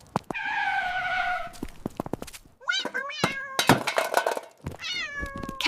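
Cartoon cat meowing in a market scene, a drawn-out meow followed by several rising, wavering meows amid thumps and clatter, with a voice shouting over parts of it.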